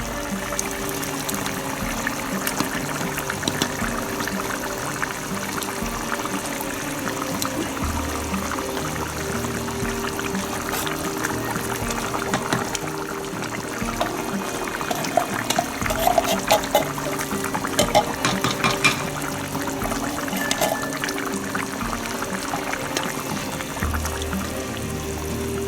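Canned black beans go into a cooking gravy for Panamanian ropa vieja, giving a continuous wet pouring and trickling sound with faint background clatter throughout.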